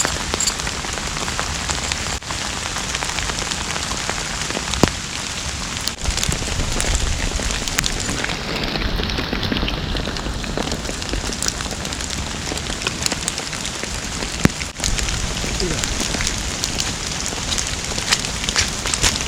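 Heavy rain drums steadily on a camping tarp, a dense, loud patter that continues throughout with a few sharper drips landing on the surface.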